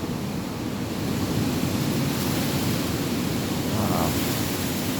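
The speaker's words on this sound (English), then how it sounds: "Hurricane Milton still giving big winds" Strong wind from Hurricane Milton in Palm Beach County, Florida, roars as a steady, loud broadband rush, buffeting the microphone throughout without letup.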